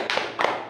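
A class in a fourth-grade primary school lesson claps together in two quick bursts, crisp and close, as part of a rhythmic group clapping chant.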